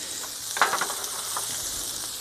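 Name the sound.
fillet steaks sizzling as they cook on the grill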